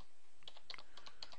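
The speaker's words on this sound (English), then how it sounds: "Make sure my caps are on and type in the word" A computer keyboard clicks through a short quick burst of about a dozen keystrokes, close and crisp, with no talking.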